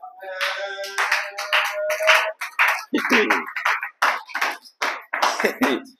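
Rhythmic hand clapping in a lively church worship service acclaiming the Lord, sharp repeated claps mixed with voices and singing or shouting.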